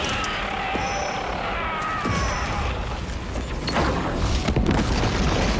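A grenade explodes in a Warhammer 40K video game, a booming burst that swells near the end over a steady wash of battlefield noise, with a few sharp cracks and no talking.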